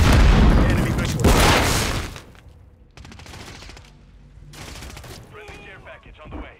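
A Semtex grenade in a video game bursts in a loud, close boom amid heavy gunfire, then fades into quieter scattered shots, voice callouts, and clanks.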